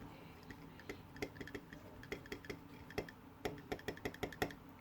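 A Staedtler 925 35 mechanical pencil gives off faint, irregular ticking clicks while writing, a quick run of small taps over soft background noise.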